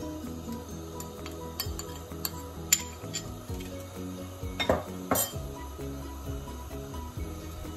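Spoon stirring a milk, ghee and coconut mixture for payesh in a pot, with soft scraping and a few sharp clinks against the metal.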